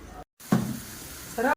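Oil heats in a clay pot for crab gravy, making a faint sizzle in short bursts with a brief silent gap.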